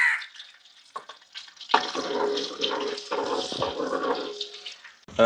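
Crushed ginger and garlic hiss and spatter in coconut oil in a pot, starting quiet, then a loud sizzling burst that holds unevenly with stirring scrapes, close up and with no talk.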